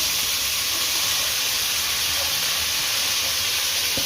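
Chopped onions deep-frying in hot oil for chicken biryani, a loud, steady hiss that stays even and unbroken from start to finish, with no voices.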